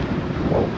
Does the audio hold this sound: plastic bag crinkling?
no